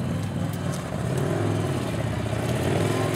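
A Victory Commander 1 police motorcycle ridden by a Carlsbad PD officer on a test course, its engine droning and revving steadily and loudly throughout, with no talking.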